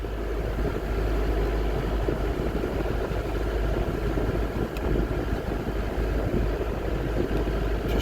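A sailboat's engine drones steadily as the boat motors along under full sail in light wind, a constant low rumble that continues without a break.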